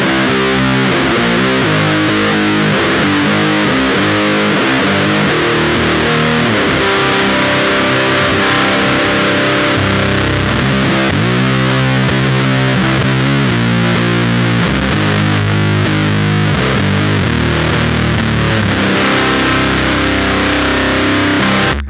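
Minotaur Sonic Terrors fuzz pedal set to its heavy voicing, driven by a guitar: a thick, saturated, sustained fuzz tone with chugging chords and held notes, loud and continuous throughout with no talking.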